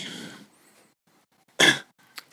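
A small cough bursts out sharply and briefly after a stretch of near silence, followed by a faint short breath or throat noise.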